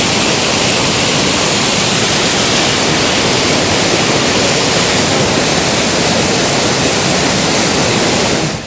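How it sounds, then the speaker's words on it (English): Colwith Force waterfall swollen with white water after heavy rain, a loud, constant broadband roar of rushing and crashing water, close and unbroken for the whole stretch. "that is Colwith Force"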